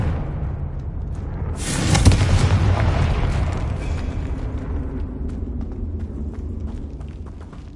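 A Confringo blasting spell goes off in Hogwarts Legacy, a sudden loud boom that swells into a broad rumbling roar and then slowly trails off over several seconds with scattered debris crackles.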